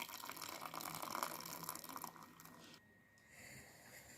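Water pours from a pasta pot through its upturned lid while tomato-sauce pasta is made, a steady close rush that thins and drops off toward the end.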